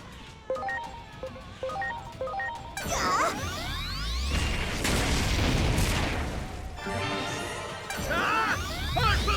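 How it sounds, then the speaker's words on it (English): A Hard Torpedo attack explodes in the Digimon Time Stranger video game, a sequence of heavy crashing booms and swirling whooshes after a few rhythmic game tones, loud and dense for several seconds. "Here it comes! Hard torpedo!"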